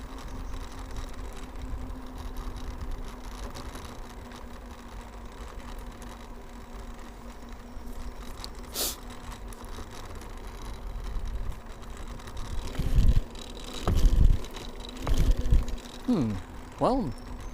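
A motorbike engine in first gear through a corner on a ride up from the Head towards Carrs lookout runs steadily with a low hum, then grows rougher and louder near the end as revs rise and fall, with some voice underneath.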